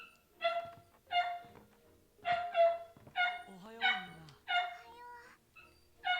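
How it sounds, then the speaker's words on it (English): A dog barks from another room through an open door, in sharp repeated yaps with short pauses between them, loud and clear and alone. "Oh, there's my dog going off."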